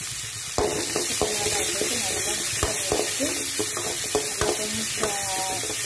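Beans poriyal with mustard seeds and curry leaves is stirred in a hot pan. A steady sizzle runs under it, and repeated sharp clicks and scrapes of the spoon come at an uneven rhythm, with a faint voice in the background.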